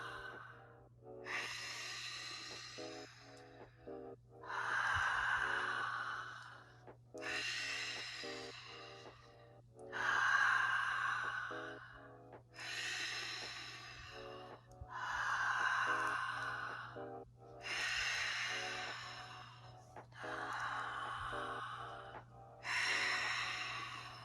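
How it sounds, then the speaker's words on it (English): Slow, deliberate circular breathing during a guided breathwork session, with long rhythmic in-and-out breaths repeating about every two to three seconds, close and fairly quiet over a low steady hum, with no talking. "Keep breathing in this circular motion."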